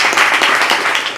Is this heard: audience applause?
yes